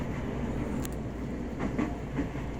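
A Jakarta Commuter Line train rolls into a station, a steady low rumble with faint rhythmic wheel clicks and brief metallic squeals, heard from aboard at moderate distance.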